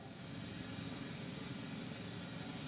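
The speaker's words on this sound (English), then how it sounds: "It's a drill." A drill running in the sci-fi video game The Invincible, a steady loud mechanical drone that holds unchanged and close for the whole stretch with no voices over it.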